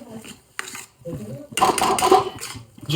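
A spoon scrapes and stirs thick sukhdi, jaggery melting into ghee in a pan, with soft sticky scraping close up while someone talks over it.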